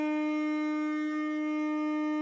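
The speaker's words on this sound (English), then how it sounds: "That is the sound of a minor victory being played" The SnowRunner video game plays a short minor-victory jingle, a steady sustained chord that holds evenly and fairly softly for about two seconds.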